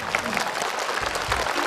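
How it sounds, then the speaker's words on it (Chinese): A studio audience applauds a child contestant on stage at a kids' show, dense clapping under a host speaking over it. "谢谢，掌声送给我们八号小选手"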